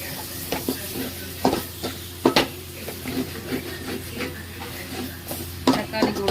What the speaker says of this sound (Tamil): தக்காளி வதங்கிட்டு